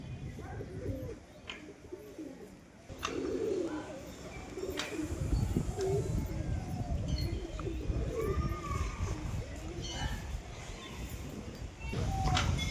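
Pigeons coo faintly at a home loft under a constant outdoor background rumble, a few soft rolling calls drifting in and out over the noise.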